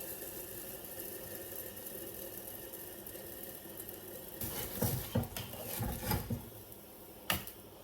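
Sri Lankan style appam batter swirled in a pan before a lid goes on, with a steady background hiss, then several close metallic clinks and a sharper clack near the end.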